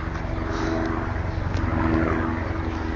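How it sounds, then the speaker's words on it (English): Steady low rotor drone of a helicopter flying overhead with continuous broadband rumble, moderately loud, no voices. "Helicopter."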